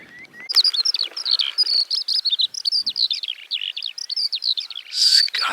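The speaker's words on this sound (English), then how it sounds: "Skylark, that's it." A skylark sings alone, close and clear, in a long rapid stream of high warbling chirps and trills with short breaks, heard outdoors against windy open ground.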